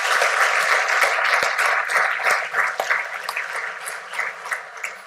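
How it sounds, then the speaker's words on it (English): A lecture audience gives a round of applause, dense steady clapping that gradually thins and softens toward the end. "So we could give Fred a huge round of applause"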